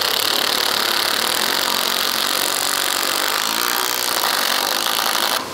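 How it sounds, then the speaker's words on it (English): A loud power tool runs steadily while bolting down a tank turret ring in a workshop, a continuous harsh buzzing drone for over five seconds that cuts off abruptly at the end. "Now the boys start bolting down the turret ring."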